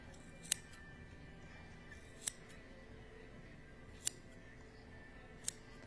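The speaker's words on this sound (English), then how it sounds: "And then I'm going to cut the loops." Scissors snip through yarn loops at a handmade craft event, four sharp, isolated clicks spaced about two seconds apart over a quiet room background.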